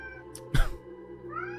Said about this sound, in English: your cat meowing is just killing me.